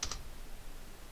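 Two quick, crisp computer keyboard keystrokes click at the very start as a password is entered, followed by near silence.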